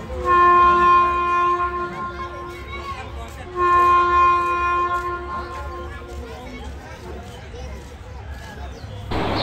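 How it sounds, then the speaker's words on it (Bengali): A large ride-on train at an amusement park sounds two long, loud horn blasts, one after another, over a background murmur of crowd noise. "এই যে দেখেন কত বড় একটা ট্রেন।"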